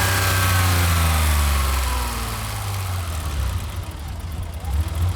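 A running BMW engine has water poured into it, giving a loud, steady low idle rumble with a gurgling, sputtering texture that roughens and wavers toward the end.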